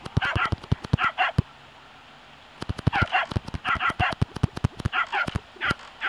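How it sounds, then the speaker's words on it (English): A dog in a video game barks in sharp, loud, rapid bursts mixed with yips, with a brief quiet gap before the barking resumes. "What's wrong with my dog?"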